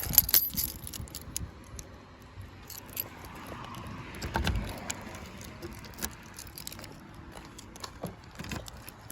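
A bunch of keys jangles and clinks in short, scattered bursts at close range, mixed with handling knocks and soft background noise, fairly quiet overall with no talking.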